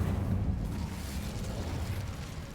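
An Incendio fire spell bursts in a wizard game, a dense roaring whoosh of flame that starts loud and settles into a steady rushing crackle, alone.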